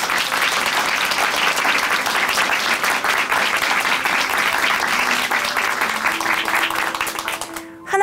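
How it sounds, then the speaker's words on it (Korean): A studio audience at a Korean church testimony television program gives sustained, dense applause, loud and even throughout before fading at the very end. "박수로 함께 응원해 드리겠습니다"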